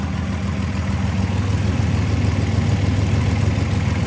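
A rebuilt VR6 engine in a Volkswagen GTI idles through a new exhaust, giving a steady, deep, even rumble that stays close and loud, with no talking.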